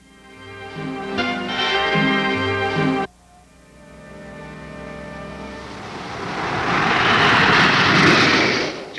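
An F-104 Starfighter jet fighter is heard first as a loud tonal whine that cuts off abruptly, followed by a rising roar that swells to a sustained, full-bodied jet rush.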